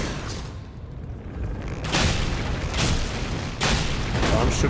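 Gunfire sounds out in Elden Ring Nightreign as heavy booming shots in a dense, rumbling battle, with loud surges every second or so over a constant bed of game noise.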